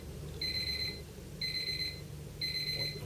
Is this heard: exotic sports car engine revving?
no